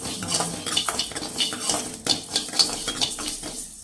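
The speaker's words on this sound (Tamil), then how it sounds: "வெறும் வடத்தட்டியில் இப்படி அரிசி அரிசி போட்டு வறுத்துக்கணும்." Rice being dry roasted in a bare pan with no oil for a Tamil brinjal kuzhambu, stirred continuously so the grains scrape and rattle against the metal in a steady, close clatter with no voice.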